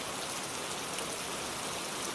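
Heavy rain pours steadily, a dense, even hiss of falling water that holds without a break at moderate loudness.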